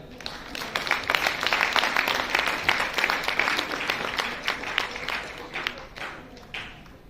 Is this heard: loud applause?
yes